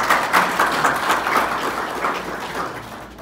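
An audience at a university ceremony in Haiti applauds steadily, a dense patter of many hands that holds for a few seconds and then begins to fade slightly.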